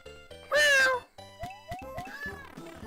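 A cat meows several times close by during a Super Mario Bros: The Lost Levels game stream: one long loud meow, then a series of shorter chirping mews.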